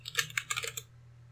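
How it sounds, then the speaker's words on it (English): A password typed on a computer keyboard, a quick run of about ten soft, close key clicks lasting under a second, then quiet. "You just type in your password"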